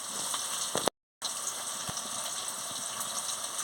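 Ginger, garlic and chili sizzle in hot oil with fried onion for a tender goat curry, a steady close hiss that continues unbroken apart from one brief cut.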